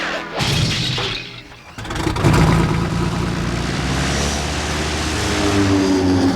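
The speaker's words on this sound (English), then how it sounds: "Sorry, the takeoff was a little rough, guys." A propeller airplane taking off, a steady loud engine roar that swells after a brief dip and holds at a constant drone, close and with no speech.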